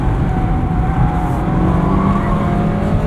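A 2024 Mazda MX-5 Miata Club with Brembo brakes drives hard, its engine droning loud and close in a steady pull with wind and road noise throughout.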